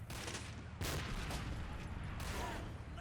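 Gunfire in a World War II video game: a sharp rifle shot cracks out loud and close, followed by another blast a moment later amid a dense rumbling battlefield din.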